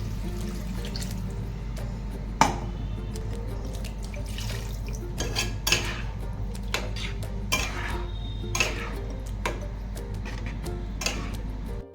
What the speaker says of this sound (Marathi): आता पाणी घालूया आपण